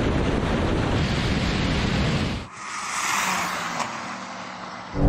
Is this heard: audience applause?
no